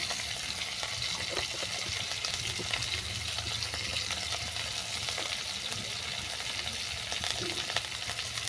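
Crab curry sizzles and bubbles in a pan after salt goes in, a steady close frying hiss with soft stirring movements running throughout.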